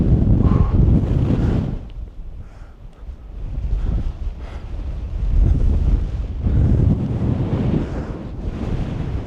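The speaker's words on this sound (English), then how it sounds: "It's a bit windy." Strong gusty wind on a 1,708-meter mountain summit in Korea buffets the microphone in loud rumbling bursts, easing briefly and rising again, with no voices.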